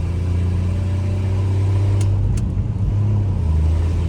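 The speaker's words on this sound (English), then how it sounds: "I kind of wind out second gear a little bit because it goes right to third if you're not careful." An old Plymouth Barracuda engine winds out in second gear, a loud, steady, close drone from the car while it drives, with no talking.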